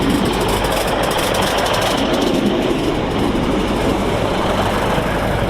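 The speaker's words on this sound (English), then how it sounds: "time for another East Midlands Railway service from Nottingham to Norwich." East Midlands Railway class 156 diesel unit 156470 on a Nottingham to Norwich service, a loud close rumble of engine and wheels with rhythmic rail clicks as it passes, steady and continuous throughout.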